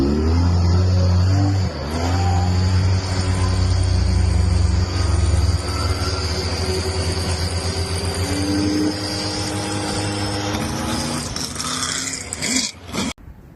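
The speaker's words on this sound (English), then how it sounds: "Today we're firing this pretty much brand new ASCS 360." A nearly new ASCS 360 sprint car engine fires for the first time, a loud, close, rough idle with revving that rumbles steadily, then dips and sputters before cutting out near the end.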